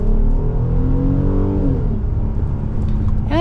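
A 2026 Ram 1500 Tradesman pickup's V6 engine revving from inside the cab, a loud, steady droning rise in pitch that eases off and falls back to a lower hum.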